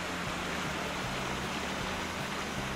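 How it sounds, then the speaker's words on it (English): Steady rushing water noise from a waterfall beside the track in the VR Karts racing game on PlayStation VR, a continuous broadband wash with a low engine-like hum underneath, constant and moderately quiet throughout. "You hear the waterfall to your left."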